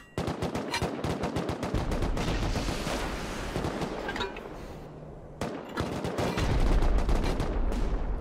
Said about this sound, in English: Joe, can you shoot him off the roof?